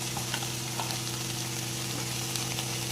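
Hakka noodles fry in a pan as spoonfuls of red and green chilli sauce are stirred in, a steady close sizzle with faint clinks of the spoon against the pan and no talking.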